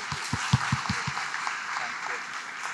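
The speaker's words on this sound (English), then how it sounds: "let's do a big applause and thank you so much" Audience applause at a World Economic Forum country roundtable on the Philippines, a steady broadband patter of clapping in a room, preceded by a few low thumps.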